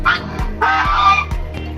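Geese kept alongside farmed Muscovy ducks honk loudly and close by, a couple of harsh nasal calls with soft thumps between them, and no voices.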